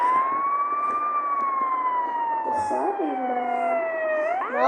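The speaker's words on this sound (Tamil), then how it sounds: "ஆம்புலன்ஸ் இருக்கு கைஸ்" An ambulance siren wails loud and close in road traffic, holding a steady tone that slowly falls and then rises sharply again near the end, with some talk faintly mixed in.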